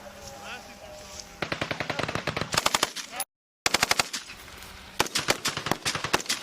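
Rapid bursts of automatic gunfire during a military exercise at Schofield Barracks, Hawaii, loud and close, with several sustained strings of shots broken by short pauses and shouted voices.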